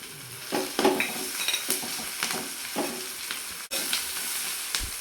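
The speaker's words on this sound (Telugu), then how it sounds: "ఇందులో అల్లం వెల్లుల్లి పేస్ట్ వేయించుకుందాం" Ginger garlic paste frying with browned onions in a pan for potato kurma, a steady close sizzle broken by scraping stirs and a few sharp clinks, with no talk.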